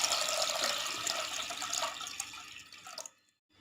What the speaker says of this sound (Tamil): இதில் இப்போ நம்ம 2 கிளாஸ் தண்ணி ஆட் பண்ணிக்கலாம்.